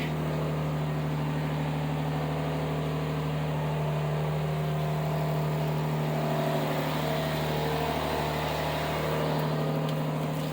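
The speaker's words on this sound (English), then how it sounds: "Got an exhaust leak." An old car engine idling steadily on a cold start with an exhaust leak, a constant low hum and a rough, puttering rasp running throughout, close up and unchanging.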